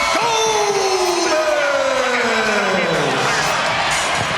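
A packed arena crowd roars and cheers continuously for the winner of a women's RAF wrestling bout, dense and loud throughout, while an announcer's voice rises and falls over the noise.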